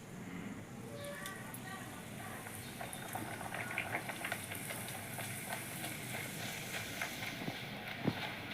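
Luchi, a puffed Bengali flatbread, deep-frying in hot oil, giving a steady bubbling sizzle throughout with a few sharper pops near the end, with no talk over it.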